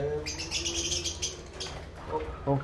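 A fantail pigeon calls inside a bird cage, with soft coos rising near the end among bright chirps from other caged birds. Faint background voices and room noise sit underneath.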